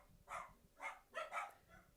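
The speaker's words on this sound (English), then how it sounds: "This noise will go away if you can hear the dogs barking." Dogs barking during a live FA Cup fourth-round football match between Ipswich and Maidstone, four faint barks in quick irregular succession over a low background rumble.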